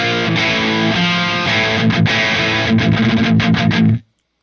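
Heavily distorted electric guitar chords through a Mesa Mark IV amp with distortion turned all the way up ring out loud and continuous, with a buzzing saturated tone, then cut off abruptly into silence.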